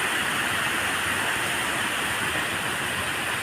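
Water overflowing and rushing at Ghanteswari temple in Sambalpur, a steady, loud, broadband roar of pouring water that continues without a break and without voices.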